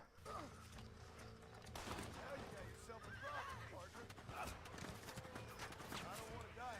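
A horse whinnies and snorts in Red Dead Redemption while hooves clip-clop in a town in Mexico. Mechanical clatter and bursts of gunfire sit underneath, and someone talks over the game sounds.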